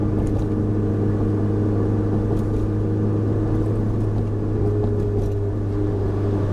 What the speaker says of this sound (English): Going around a turn and then stepping on it.